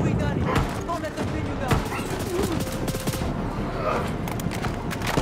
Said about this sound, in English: Who's shooting me?